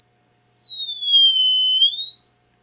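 A clean test tone sweeps smoothly downward from about 4 kHz and then rises again, played through a speaker during a crossover measurement for a DIY speaker build, steady and fairly loud with no voices.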